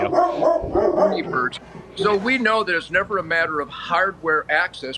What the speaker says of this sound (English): That's my dog. Sorry, we have him as a guard dog in the